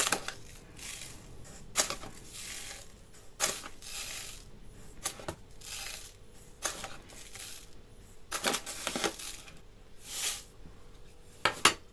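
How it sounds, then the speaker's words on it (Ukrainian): Two eggs are whisked with sugar in a bowl, giving a run of quick, close rattling and scraping bursts with short pauses between strokes, and no voices. "Погнали швиденько два курячих яйця, 7 столових ложок цукру."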